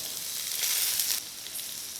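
Onions, green chillies and a little asafoetida sauté in a pan with a loud, steady sizzle that swells midway then settles, heard up close without voices.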